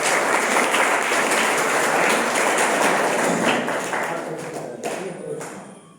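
An audience breaks into sustained applause to welcome a guest speaker at a university commemoration for Dr. Ambedkar's Parinirvan Diwas in Madhepura, Bihar. The clapping is steady and dense, then thins out toward the end.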